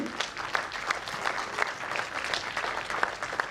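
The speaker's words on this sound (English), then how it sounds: "welcome her with a huge clapping." Steady applause from a crowd at a women's convention, many hands clapping continuously at moderate volume with no pauses.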